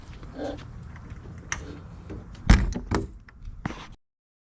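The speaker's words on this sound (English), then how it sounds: "But it's quite a nifty little drawer." A drawer in an Opus Lite camper trailer slides and thuds shut, giving a few close mechanical knocks and a firm bump at the end, with no talk.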